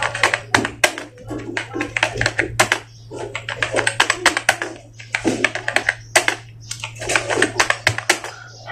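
Fast typing on a computer keyboard during a Hindi Mangal typing lesson: dense, close bursts of key taps come in runs with short pauses, over a steady low electrical hum.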